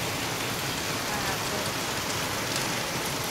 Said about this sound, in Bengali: হঠাৎ বারান্দায় থেকে আওয়াজ আসছে ঝমঝম করে বৃষ্টির আওয়াজ